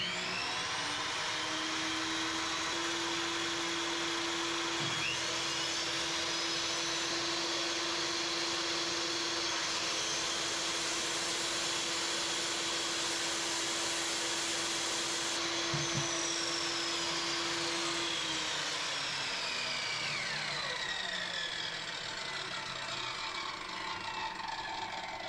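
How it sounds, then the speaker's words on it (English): Power tools run together off a Bluetti AC300 power station in a pole barn: a table saw, circular saw and chop saw. A loud, continuous whining roar with a steady tone holds for the whole stretch and shifts slightly in pitch near the end. "we're running lights, refrigerator, table saw, circular saw, and chop saw"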